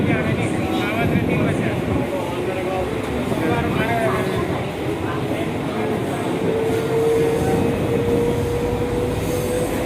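A Mumbai local train heading to Borivali rumbles steadily with rolling wheel noise and a faint rising squeal, while people talk over the din.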